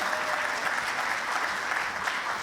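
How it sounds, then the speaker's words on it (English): A conference audience applauds steadily for a speaker at a summit panel, a dense even patter of many hands clapping throughout. "Please give him the biggest round of applause too."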